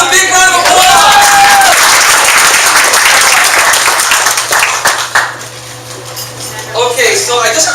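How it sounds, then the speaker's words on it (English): An audience at a business launch event breaks into loud, sustained applause that gradually fades out, with a few voices heard as it dies down. "Give yourself a big round of applause!"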